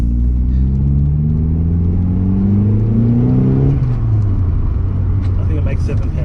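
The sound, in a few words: Mazda 323 Familia B6T turbo car engine accelerating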